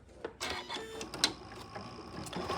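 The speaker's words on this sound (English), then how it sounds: "I'm gonna go up and over this really thick stitch, and I'm gonna go back here to my basic stitches here, and I'm just gonna sew" Janome M7 Continental sewing machine stitching over a thick jean seam, a faint, steady mechanical whir with rapid needle clatter throughout.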